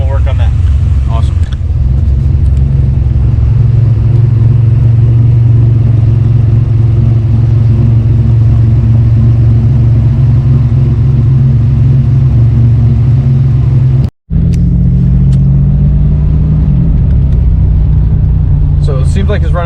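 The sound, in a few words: 1993 GMC Typhoon engine running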